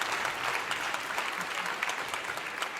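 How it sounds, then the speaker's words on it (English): Steady audience applause at a panel discussion on Black faith and trauma, dense and even, with many hands clapping at moderate volume throughout. "I think that's cause for a clap there."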